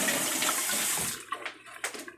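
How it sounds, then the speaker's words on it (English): A hand is rinsed under a running tap in a kitchen, the water hissing steadily before breaking into short splashes and drips as the flow is interrupted. "Rinse my hand off."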